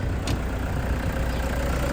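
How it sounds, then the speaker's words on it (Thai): A used 2007 Toyota Vigo 2.5 pickup idles, its engine giving a steady, even low rumble close by with no knocks or surges, and no voices over it. "เสียงเครื่องยนต์ดังนิ่งมากนะครับ ไม่มีเสียงลูกลอกไม่ดัง นะครับ"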